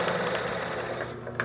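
A Tacsew T111-155 industrial walking-foot sewing machine runs in a steady, close mechanical hum with a fast regular stitching rhythm, heard alone.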